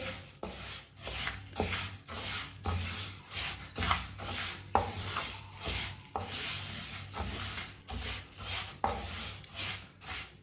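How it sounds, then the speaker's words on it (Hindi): A spoon scrapes around a pan, stirring moong dal as it browns, giving quick, close rasping strokes in a steady back-and-forth rhythm for about ten seconds with no talk. "मूंग दाल को ऐसे ही चम्मच चलाते हुए ब्राउन करना"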